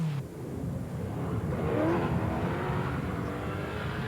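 A Nissan rally car races along a stage in a 1980s rally, its engine revving and climbing in pitch as it passes, a sustained, fairly loud roar with no speech.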